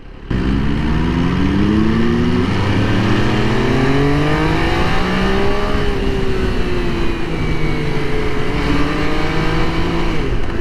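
A 2024 MV Agusta motorcycle engine under way, loud and continuous with a rising and falling tonal drone as the revs shift, heard close and alone throughout.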